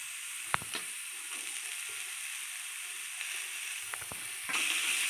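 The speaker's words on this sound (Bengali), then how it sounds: "এই যে পেঁয়াজটা লাল লাল করে ভাজা হয়ে গেছে, এবার মূলোগুলো ছড়িয়ে দিচ্ছে," Chopped radish is scattered into a pan of browned onions and fries with a quiet, steady sizzle, broken by a few sharp scraping clicks from stirring.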